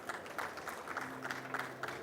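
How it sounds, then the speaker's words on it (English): Audience applause at a KNX India ETS6 smart-building roadshow, welcoming a presenter: a steady wash of many hands clapping at moderate distance, fairly soft, with a faint low hum underneath and no talking. "I would like all of you to give an applause for him for coming down"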